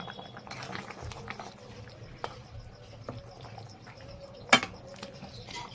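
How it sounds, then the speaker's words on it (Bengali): Fish curry being stirred in a pan just after garam masala is sprinkled in, with soft scraping, wet simmering and a few sharp utensil clinks against the pan, fairly quiet and close. "গরম মশলাটাও ছিটিয়ে দিলাম দিয়ে একটু নাড়িয়ে দেব"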